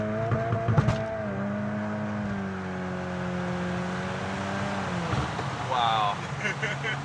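A 2022 VW Golf R tuned to 380 hp on stock Ventus S1 tires accelerates hard with lots of wheelspin, its engine note climbing steadily and then dropping at a shift, while people talk over it.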